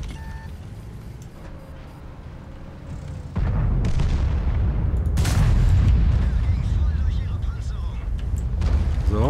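Heavy tank cannon fire in World of Tanks, an E-100 battle, with loud booming blasts and rumbling low-end impacts that grow denser midway, while players talk over the action.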